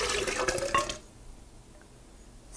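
Water is poured from a container into a blender jar holding cashews for a cashew cream sauce, a brief splashing pour lasting about a second, then near silence with a faint clink at the end.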